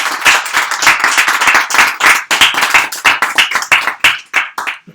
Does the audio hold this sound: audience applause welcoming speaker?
yes